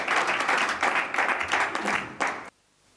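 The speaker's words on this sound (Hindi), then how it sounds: "आप जोरदार तालियां बजा करके शिव शैलेंद्र यादव।" An audience at a Hindi poetry recital claps loudly in rhythmic surging bursts for about two and a half seconds, then the applause cuts off abruptly into near silence.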